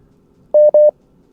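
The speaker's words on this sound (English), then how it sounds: "I have no idea why it still makes beeping noises." A phone line gives two short identical electronic beeps in quick succession, loud and clean against a faint background hum.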